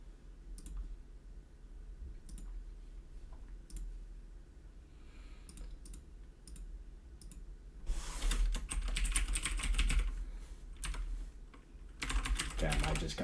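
Computer keyboard keys clatter in quick bursts while someone logs in to an account, with a louder, denser flurry of typing in the middle and again near the end over a low room hum.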